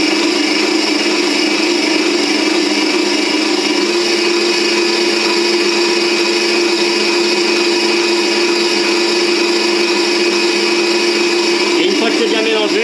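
Electric mixer whipping coffee cream into a chocolate ganache, a loud, steady high-pitched motor whine running throughout with a slight change in tone near the end.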